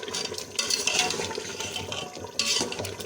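Water splashes and pours into a pot of cooking beef in a few uneven bursts, close by, with light clanks of metal.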